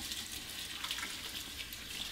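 A tap runs steadily as hands are washed, a quiet even hiss of water into a sink with no voices.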